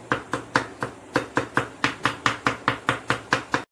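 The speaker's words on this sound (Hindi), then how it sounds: "मिर्चों को अच्छे से बारीक बारीक चॉप कर लेंगे।" A knife chops green chillies finely on a board in steady, close, crisp strikes, about fifteen evenly spaced chops with no talking.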